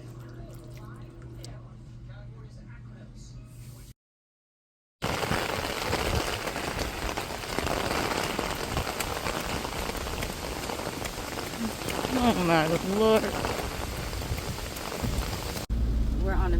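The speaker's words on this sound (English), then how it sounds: "It's been raining all night." Heavy rain falls outside for a long stretch, a dense steady wash of drops pattering on surfaces after a short quieter passage, with a voice speaking briefly over it.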